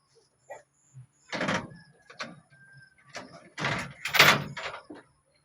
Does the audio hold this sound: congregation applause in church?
no